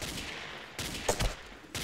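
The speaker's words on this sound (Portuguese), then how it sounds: "agora o cara tá atirando em mim" Gunfire in the video game Ace of Spades comes as a few quick, fairly faint bursts of shots spread over under two seconds.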